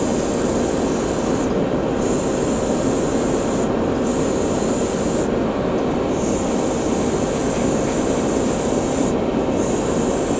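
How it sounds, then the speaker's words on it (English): Spray primer hisses steadily onto the frame of a Gipsy Danger model, a loud, close, continuous spray with a few short breaks, and no voices. "I'm kind of having to overspray here, which I do not like doing."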